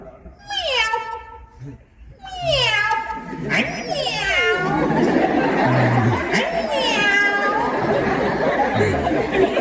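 A person imitates a cat with several drawn-out meows, then chattering, whiny mimicry continues under overlapping voices and faint laughter.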